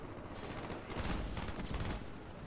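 G11 rifle fire in Call of Duty Black Ops on PC, a short burst of rapid, crackling shots heard fairly quietly over a low game background, no voices.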